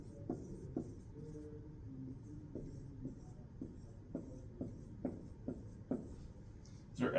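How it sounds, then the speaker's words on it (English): Hand drawing of a blood supply diagram, with steady, close scratching and tapping strokes of a pen or marker repeating in short bursts and no voice. "I'm going to draw a little blood supply here."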